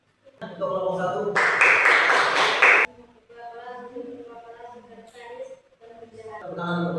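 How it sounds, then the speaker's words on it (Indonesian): A classroom group claps for the first student group, a short burst of applause lasting about a second and a half, with a teacher's voice speaking before and after it. "Tepuk tangan untuk kelompok 1."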